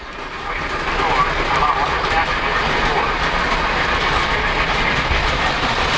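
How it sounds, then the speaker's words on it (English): A Polar Express model freight train rolls steadily across a model railroad crossover bridge, its small wheels giving a continuous close rumble with faint clickety-clack, while a voice talks over it. "I've got that Polar Express freight train all the way back across the crossover bridge"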